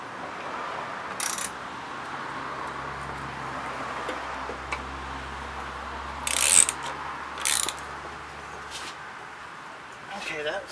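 Ratchet clicking in short bursts while tightening loose bolts on a lawnmower during a repair, a few brief sharp ratcheting sounds over steady background noise.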